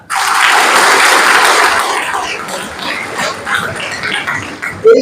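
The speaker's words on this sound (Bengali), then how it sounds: "এখানকার ছাত্রছাত্রীরা এত মন দিয়ে কথা শুনছে, সেটার জন্য একটা জোরে হাততালি।" Students at a mission school burst into loud applause that swells at once, holds strong for about two seconds, then thins into scattered claps that trail off.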